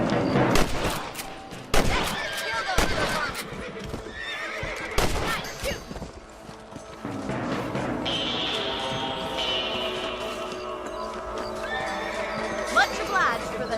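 In the video game Red Dead Redemption, a horse whinnies among clip-clopping hooves and sharp gunshot-like bursts. A sustained neigh stands out in the latter half.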